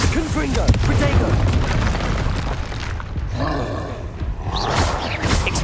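Confringo fire spell blasts in Hogwarts Legacy combat, a run of booming, roaring explosive bursts layered with dense battle noise and shouted incantations, loud and continuous throughout.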